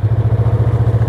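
A Yamaha MT-03 motorcycle engine idles close up, a loud, steady, rhythmic low thrum with even pulses throughout and no other sounds.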